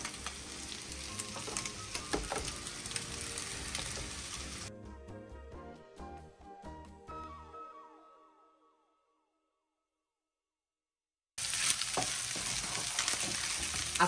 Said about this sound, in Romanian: Ceapa. Și așteptăm să se călească totul.